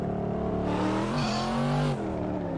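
A car drifting without the handbrake in a drift video game holds a loud, steady engine drone that climbs in pitch, with a brief tire screech in the middle.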